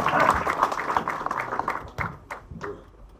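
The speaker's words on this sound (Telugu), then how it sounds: "ఈ మాటకి చప్పట్లు కొడతారని ఆశిస్తున్నాను." Audience applause at a film audio launch event, a burst of many hands clapping that starts full and gradually thins out over about three seconds.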